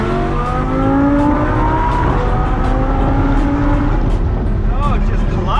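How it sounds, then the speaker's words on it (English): An Audi R8 V10 sports car engine revs hard and climbs in pitch repeatedly toward 8,500 RPM, loud and close, with a voice talking over the roaring acceleration. "Oh, it just climbs and climbs those RPMs."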